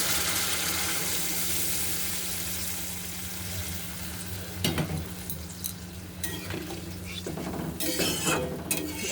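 Hot water poured into a pan of sizzling oil and spices for rui fish curry gives a steady, close hiss and bubbling frying sound. A few brief clinks and splashes break through near the end.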